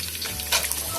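Garam masala goes into browned onions frying in a pan for chicken yakhni pulao, giving a steady close sizzle with a brief louder hiss partway through.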